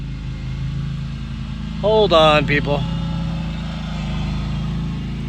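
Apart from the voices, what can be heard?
lawn mower running nearby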